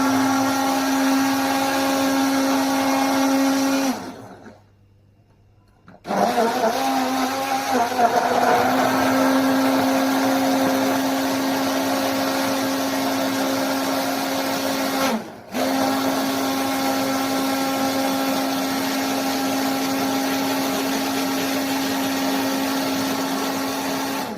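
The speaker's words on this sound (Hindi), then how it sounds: "अब मैं इसको हैंड ब्लेंड करूँगी अच्छे तरीके से।" A hand blender mixing iced coffee whirs steadily at a constant pitch, cutting out briefly and restarting, then running on with a sharp pause midway.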